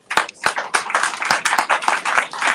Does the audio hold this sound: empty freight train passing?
no